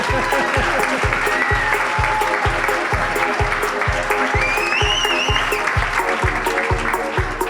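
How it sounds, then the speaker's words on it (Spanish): A studio audience breaks into loud, sustained applause, with a steady rhythmic thump pulsing beneath it and a few voices and cheers scattered through the clapping. "Un aplauso enorme para Jesús Callejo, por favor"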